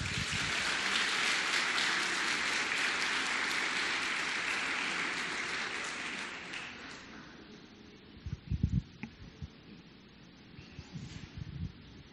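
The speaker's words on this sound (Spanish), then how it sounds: "Denle un aplauso al Señor." A church congregation applauding during a service, a dense wash of clapping that gradually fades out, followed by a quieter stretch with scattered thumps and handling noises.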